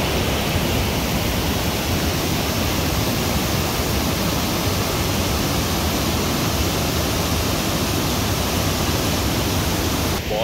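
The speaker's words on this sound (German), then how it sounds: "Ein riesengroßer, mega Wasserfall." A huge waterfall near Domodossola in Italy roars as a dense, steady wash of falling water, loud and unbroken throughout with no voices.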